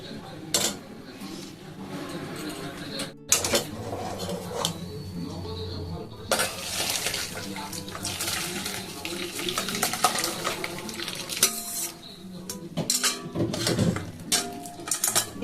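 Whey splashes and trickles steadily as freshly curdled chhena for homemade paneer is strained through a strainer, with occasional clinks of utensils and bursts of heavier pouring.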